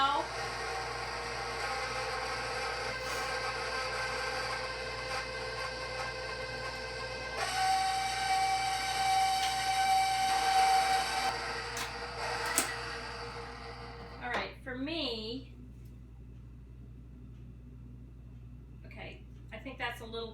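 An electric mixer beating chocolate donut batter, a steady whirring hum that shifts pitch and grows louder midway before cutting off, followed by talking.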